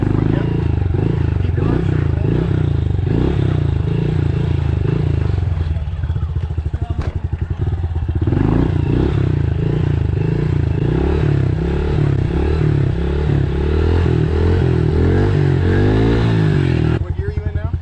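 A motorcycle engine revs and pulses nearby in first gear as a rider practices wheelies. The loud, uneven throttle bursts and rumble run throughout while a person talks over them.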